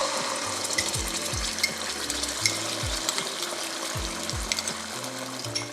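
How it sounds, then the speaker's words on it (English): Dried chili paste spits and crackles in hot oil in a wok, a steady close sizzle with scattered pops and a few low scraping knocks throughout. "Now once the oil is hot, I am going to add my dried chili paste."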